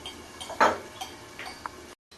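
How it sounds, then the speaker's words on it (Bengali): A lid clinks down onto a pot of raw mango boiling for Bengali chutney: one clear metallic clack with a few lighter clinks around it, close and fairly quiet. "আমি একটু ঢাকা দিয়ে দেবো"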